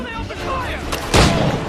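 Gunfire in Assassin's Creed III Remastered: a single loud, sharp blast bursts out near the end, following a stretch of tense, noisy battle ambience.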